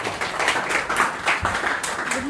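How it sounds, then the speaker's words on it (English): Audience applause at a student public speaking championship, a steady wash of many hands clapping together for a contestant, continuous and fairly loud throughout with no voices over it. "Ladies and gentlemen, please have a big clap for him."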